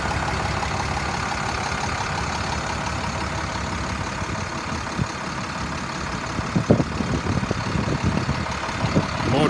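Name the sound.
2007 International 4400 dump truck engine idling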